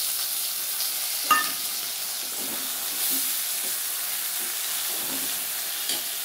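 Chopped tomato hits onions frying with five-spice in a pan, giving a soft, steady sizzle and hiss with a few light stirring scrapes and clinks, close and fairly quiet.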